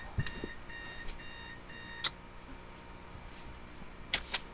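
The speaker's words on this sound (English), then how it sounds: "There's that alarm again." An alarm beeps repeatedly with sharp, clipped electronic tones in short bursts, separated by gaps, over a faint steady background hum.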